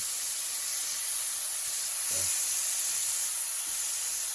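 A burger patty sizzles on a hot surface after being flipped, a steady broad hiss running alone throughout with a brief thump partway through.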